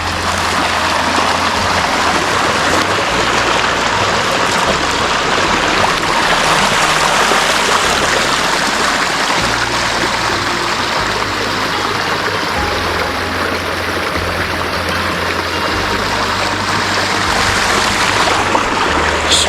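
At Marcy Dam near Lake Placid, New York, a mountain stream rushes steadily in a broad, close hiss of flowing water, with no voices over it.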